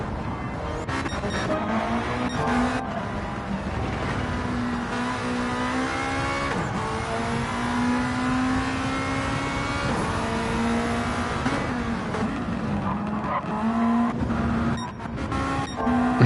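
A Mitsubishi Evo race car at an Autocare event revs hard at high rpm, its engine note holding and climbing in sustained wails with brief dips between pulls, loud and close throughout the clip.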